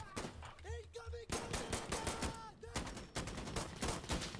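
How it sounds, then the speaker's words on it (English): Enemy automatic gunfire in the Insurgency Sandstorm video game: rapid, loud bursts of cracking shots in quick succession, with brief voices talking early on. "They're firing on me."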